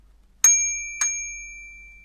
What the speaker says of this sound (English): And this bell, which I got,